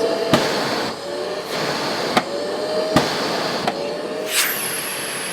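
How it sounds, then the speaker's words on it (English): A Festool CTM MIDI M-class dust extractor runs with a steady whooshing hum while its filter-cleaning blasts of air fire as sharp pops about every second, ending in a rising whine. "that's just blowing air through there to keep the filter clear and to keep that consistent extraction going all the time"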